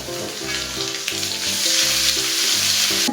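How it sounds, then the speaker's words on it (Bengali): Ginger paste hits hot oil with garlic in a pan, giving a loud, steady, hissing sizzle that swells slightly and continues without a break, alone with no voices. "এখন আমি আদা বাটাটা দিয়ে দেবো।"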